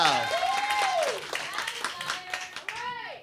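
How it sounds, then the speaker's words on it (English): Audience applause at a youth chorus cabaret show: dense, continuous clapping from a crowd, fairly loud throughout, with voices and cheering mixed over it and a brief drop near the end. "So we want to give a round of applause to Ms. Palmer and Ms. Dyer and all."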